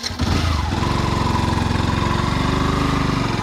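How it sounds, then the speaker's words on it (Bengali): A motorcycle engine runs steadily while riding, a loud close rhythmic exhaust drone right after a brief rough start, with no speech. "এবার যেহেতু বাইক চালাচ্ছি তাহলে এবার বাইক মোডে যাবো।"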